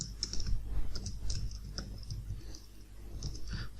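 Rapid, irregular clicks of a computer keyboard as VBA code is typed into Excel, close and fairly quiet over a low steady room hum, with no talking.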